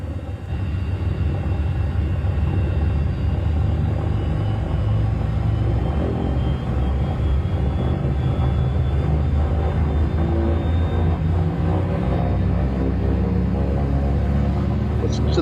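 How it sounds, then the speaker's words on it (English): A PBY Catalina seaplane's pair of 14-cylinder radial engines roar steadily through a water takeoff, a loud continuous low drone heard from inside the aircraft with voices talking over it. "A pair of 14-cylinder radial engines."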